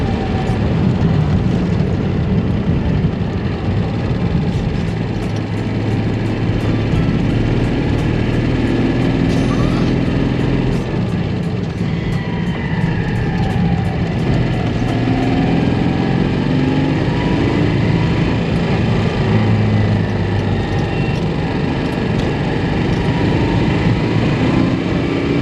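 A Citroen 2CV engine runs steadily throughout, a continuous loud mechanical drone with a low rumble, heard without speech.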